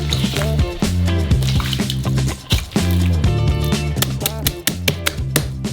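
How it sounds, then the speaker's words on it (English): Wet, squelchy squishing and slapping of soft dough with 300 milliliters of oil worked in by hand, irregular and close, with sticky smacks and gloopy pops. "Pour in 300 milliliters of oil and knead it with your hand."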